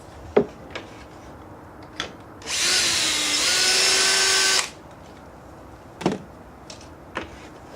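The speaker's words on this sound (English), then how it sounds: "we want to start at the bottom and work our way up so that we've always got room to drill our holes and drive the screws" A power drill whirs steadily for about two seconds driving a screw into a wooden stair tread, framed by sharp knocks and taps of work on the stairs, with no talking.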